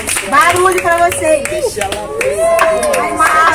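Concert crowd at an outdoor cultural music show clapping and cheering, with lively applause mixed under loud shouting and an amplified singer's voice throughout.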